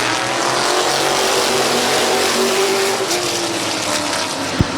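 Race cars circling Midvale Speedway, a steady, continuous engine roar held at a constant loud level throughout with a sharp brief knock near the end.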